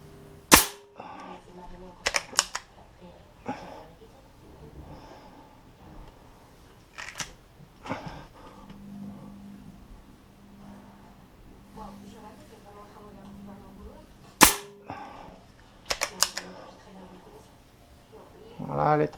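An air gun fires pellets at a target in sharp, loud, isolated cracks, one near the start, a pair shortly after and more later, each with a brief mechanical click, while someone speaks quietly between shots.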